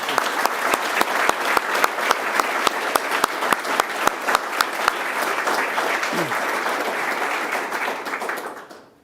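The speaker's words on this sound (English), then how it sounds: "Please give them a round of applause." A city council meeting audience applauds for several seconds, steady dense clapping with some distinct individual claps near the front, tapering off at the end.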